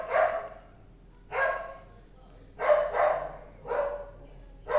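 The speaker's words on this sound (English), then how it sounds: "a continuously loudly barking dog" A dog barks loudly and repeatedly in separate bursts of one or two barks, spaced about a second apart over a steady low background hum, with no talking.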